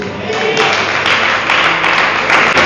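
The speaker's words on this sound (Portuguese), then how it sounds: "Alguém está aplaudindo para Jesus Cristo?" A crowd applauds continuously and loudly, dense clapping filling the space for the whole stretch without pause.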